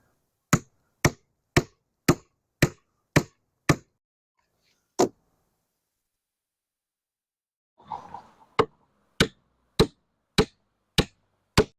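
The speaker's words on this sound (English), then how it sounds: "Now I have a proper hammer." Hammer driving wooden stakes into stony ground for concrete curbing forms, sharp evenly spaced blows in two runs separated by a pause with a brief shuffle, close and loud, no voices.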